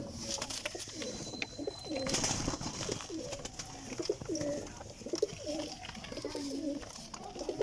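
Several pigeons coo in steady, repeated low calls, fairly close, over a soft background hiss with a few faint chirps.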